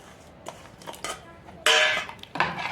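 Dal tempering with chili and tomatoes is stirred in a pan, with scattered metal spoon clinks and scrapes and then a sudden loud sizzle as the mixture hits the hot oil, close up with no talk.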